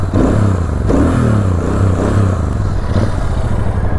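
Deep, bass-heavy exhaust note from a Royal Enfield Super Meteor 650 motorcycle on the move, loud and close, with rhythmic throttle swells and a throbbing low pulse under wind noise.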